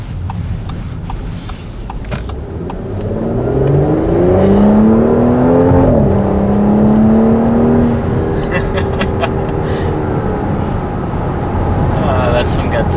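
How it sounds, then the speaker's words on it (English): A 2020 Audi S5 convertible's exhaust while driving, a rising engine drone that swells as the car accelerates, dips at a gear change, then climbs again under steady road and wind noise. "I really like the sound of the exhaust."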